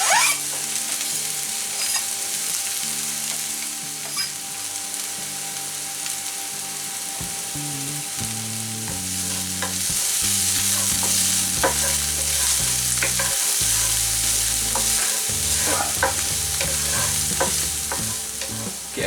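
Garlic is stir-fried for vegetable egg fried rice, giving a loud, continuous close sizzle with stirring scrapes and a musical backing throughout. It grows slightly fuller midway, with no speech.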